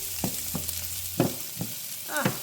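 Vegetables sizzle in oil and garlic in a frying pan, a steady close crackle broken by several soft scraping stirs.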